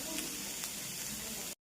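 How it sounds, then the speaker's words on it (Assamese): Banana flower fries in a pan with a dense, continuous sizzle, close and steady, with a couple of brief spatters before it cuts off. "এইফালে কলফুলখিনি এনেকৈ মই ভাজি আছোঁ।"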